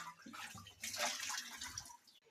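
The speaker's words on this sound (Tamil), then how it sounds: "பாருங்க தண்ணி ஊத்துறோம்" Water is poured in a brief, splashy gush that swells after a few low knocks and then trails off, close and fairly faint, with no talk.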